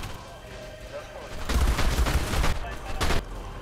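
Gunfire in Ark: Scorched Earth during a fight with wyverns, loud rapid bursts of shots crackling in two close volleys amid game noise.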